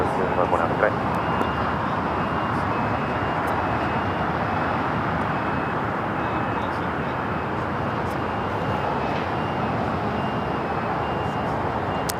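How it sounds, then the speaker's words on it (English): A Boeing 787 Dreamliner taxiing at Los Angeles International Airport gives off a steady, broad engine roar that stays even and unbroken throughout, with no distinct events over the wash. "The Dreamliner continuing down to Kilo."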